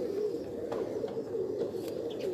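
Pigeons on a rooftop coo softly in low, rolling murmurs, a steady close-by burble with faint outdoor background and no talk.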